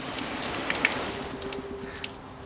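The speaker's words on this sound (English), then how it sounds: "I turned our simulated rain back on" Simulated rain from a hose sprays water onto the windshield of a Honda Clarity, a steady hissing wash with faint droplet patter, constant and moderately close, no voices.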